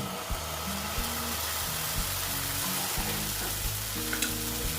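Atta flour batter poured into a hot pan fries with a steady, loud, close sizzle that hisses continuously throughout, with a low hum underneath and no voices.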